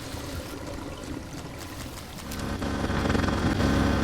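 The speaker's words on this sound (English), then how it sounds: "I'm going to dump my water here. And that will just flood down into the," Water rushing and pouring into a drain in the video game Drain Sim, a steady broadband wash that swells louder partway through.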